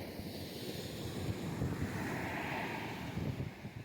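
Surf at Sangkuthurai beach in Kanyakumari washes in a soft, continuous roar, fairly faint and mixed with wind buffeting the microphone, and no one speaks.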